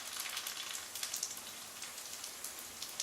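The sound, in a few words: ravioli frying in oil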